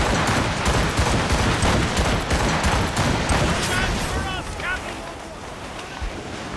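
Cannon fire during a naval battle among ice in Assassin's Creed Rogue, a loud continuous barrage of booms blending with wind and surf, steady for most of the stretch before easing slightly near the end.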